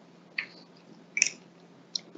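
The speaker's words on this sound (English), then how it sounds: "so you might hear some paper flipping in the background." Pages of a paper notebook being flipped, three short, soft papery rustles spaced apart over a quiet background with no voices.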